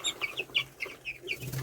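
Poultry chickens cluck in a quick series of short close calls, several birds overlapping steadily with a faint low background hum.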